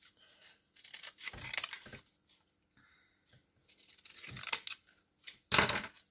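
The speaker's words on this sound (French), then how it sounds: "On découpe tout ça." Scissors cutting paper for an art journal, several close, quiet snipping strokes in short clusters separated by pauses, with no voices.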